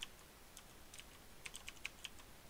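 Quiet, sparse clicks come from a computer keyboard as CSS link-tag code is typed, a few scattered close keystrokes with short gaps between them and no speech.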